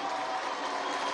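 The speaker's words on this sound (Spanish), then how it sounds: "Vamos a darle un aplauso a Escalona" A crowd at a national youth congress applauds, giving a short burst of even, sustained clapping that stays at a moderate level.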